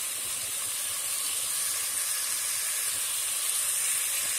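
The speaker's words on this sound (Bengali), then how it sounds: "এখন আমি ভালো করে একটু কষিয়ে দিব।" Bottle gourd and shrimp fry in a hot pan, giving a steady, close, bright sizzling hiss that holds at an even level throughout with no voices.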